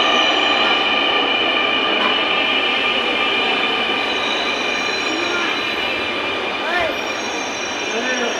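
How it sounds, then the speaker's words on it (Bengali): Metro rail train pulling into a station, a continuous rumble with tonal whine and squealing wheels that shifts near the end, close and loud throughout with no talk. "এই যে ট্রেন আসা শুরু হলো।"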